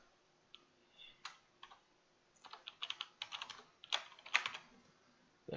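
Computer keyboard keys clack as an admin login and password are typed, sparse taps at first, then quicker bursts of close, crisp keystrokes in a quiet room.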